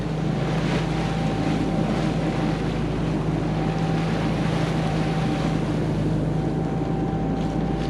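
Sailboat pounding through choppy waves at sea, constant loud rush of water and wind buffeting the microphone with a low engine drone underneath, close and unbroken.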